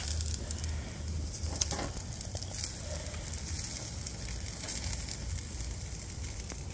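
Steak sizzling on a barbecue grill: a steady, dense hiss with fine crackles and pops that stays close and even throughout, with no talk.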